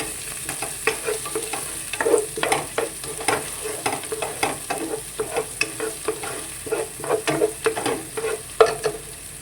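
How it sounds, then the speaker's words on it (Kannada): Onions frying in coconut oil on a stovetop, with a steady near sizzle and repeated scraping stirs at an irregular rhythm, and no voices. "ಆನಿಯನ್ ಸ್ವಲ್ಪ ಚೆನ್ನಾಗಿ ಫ್ರೈ ಮಾಡ್ಕೋಬೇಕು."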